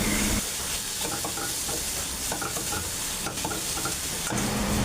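Chicken kadai with green masala sizzles steadily in a pan while a spatula stirs and scrapes it, with loud continuous frying and irregular scraping clatter throughout.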